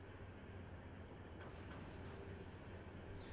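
An Amtrak Superliner train in Trainz Simulator 3 gives a steady, continuous rumble of rolling rail cars, with a faint brighter rattle joining partway through and no talk.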